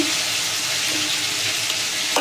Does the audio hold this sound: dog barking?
no